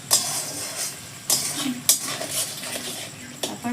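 A metal spoon scrapes and clinks against a pan while pointed gourd and prawns are stirred, with a few sharp knocks spaced between softer scraping and a faint sizzle underneath.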